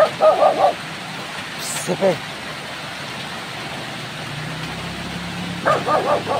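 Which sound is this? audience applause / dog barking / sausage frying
dog barking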